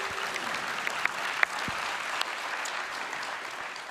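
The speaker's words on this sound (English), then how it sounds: "Can we give her a round of applause as she joins us on stage?" Audience applause at a live net-zero energy conference session as a guest joins the stage, a steady even clapping from a crowd throughout with a few sharper individual claps standing out.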